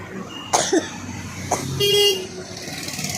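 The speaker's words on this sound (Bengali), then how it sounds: "আমার তো খালি কাশিই হয়" A person coughs twice, the sharp bursts spaced about a second apart, outdoors near a road with a vehicle horn tooting briefly afterward and faint background noise.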